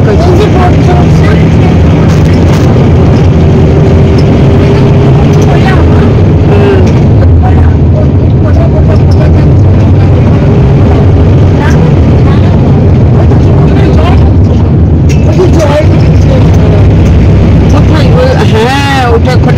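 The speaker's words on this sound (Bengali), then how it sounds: "নৌকা চলছে" Boat engine running near Alibag in rough post-rain conditions, a loud continuous low drone with wind and water noise and occasional thumps, voices talking over it.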